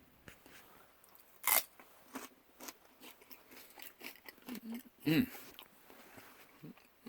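Crisp bites into celery sticks topped with crunchy natural peanut butter, two loud snapping crunches followed by repeated close chewing sounds, with quiet talk in between.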